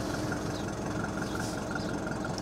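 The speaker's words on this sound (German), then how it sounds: "Fällt sofort in einen beruhigenden Leerlauf und wir hören uns das einfach mal an" A Mercedes-Benz 200 D W124 diesel engine settles into a steady, even idle, a dense continuous rumble with a faint rhythmic clatter, heard close and alone without any talk.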